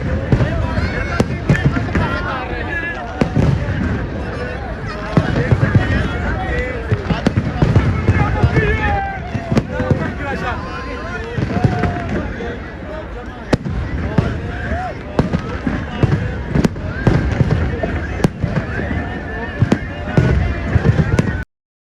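New Year fireworks at Liberty Chowk in Lahore burst in a dense, continuous barrage of loud cracks and booms, with a crowd chattering and a voice speaking beneath the rolling explosions throughout.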